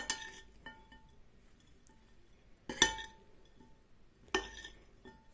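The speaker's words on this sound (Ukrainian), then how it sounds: "Все це акуратно перемішуємо." A spoon stirs a marinade of vinegar, salt and pepper for pork ears in a bowl, giving sparse clinks against the dish, two sharper knocks standing out amid quiet scraping.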